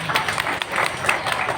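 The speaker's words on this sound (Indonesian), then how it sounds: "Tepuk tangan dulu buat muslimat tentunya" Women's religious study group audience clapping at a gathering in Indonesia, a loud, fairly close patter of hands with uneven bursts that ends quickly.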